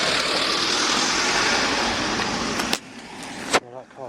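A car reverses along a narrow one-lane road, its loud, close engine and tyre noise rumbling steadily before dropping away, with a couple of sharp knocks near the end.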